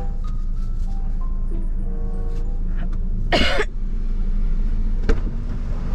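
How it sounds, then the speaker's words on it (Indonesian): A single harsh cough inside a car stands out over a steady background hum of traffic or an engine, with a faint click a moment later. "Kok masih batuk?"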